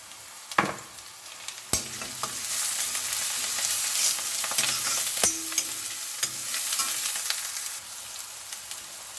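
Chillies fry in a pan for egg curry under a continuous sizzle, while a few sharp spatula scrapes and clanks mark the stirring, close and alone with no voices.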